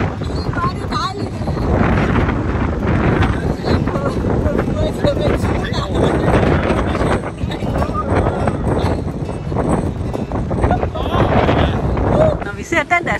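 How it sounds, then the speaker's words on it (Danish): Wind gusting steadily outdoors on a breezy holiday outing, a continuous loud rushing roar buffeting the microphone throughout, with people talking faintly underneath. "Der blæser der en lille smule her, ja."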